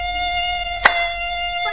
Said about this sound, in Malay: sini pun nyamuk. Banyak.